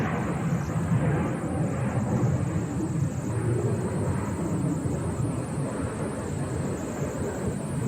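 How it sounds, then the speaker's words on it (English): A FedEx Boeing 777 cargo jet arriving at Phoenix, a steady distant engine roar with a high whine riding above it, no talk. "This looks like a FedEx 777, doesn't it?"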